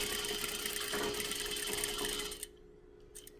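A sewing machine top stitches a fabric coffee cup cozy, giving a steady close mechanical whir for about two and a half seconds before stopping abruptly, followed by near silence with a couple of faint clicks.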